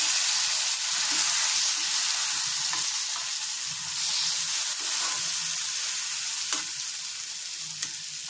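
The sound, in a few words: poppy seed masala frying in pan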